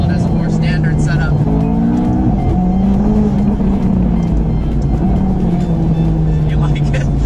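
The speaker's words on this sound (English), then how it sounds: "With the exhaust, it feels a lot more raw. The explosions it makes are crazy." A loud McLaren engine drones steadily, its exhaust rumbling and crackling; a voice is faintly audible underneath.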